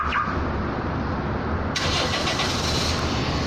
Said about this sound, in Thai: ตอนนี้เครื่องยนต์ติดนะครับ